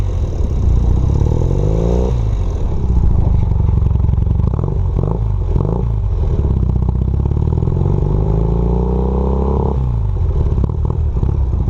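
A 1980 Honda CM400A motorcycle engine idles steadily close by, its throaty putter rising and falling in pitch as the throttle is blipped several times, with no talking.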